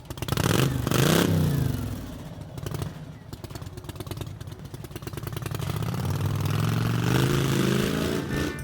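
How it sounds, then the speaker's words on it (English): A motorcycle engine revs up loudly nearby, rising and falling in pitch, then settles into a steady rumble before building again. "gets on his bike and revs up and starts to head out"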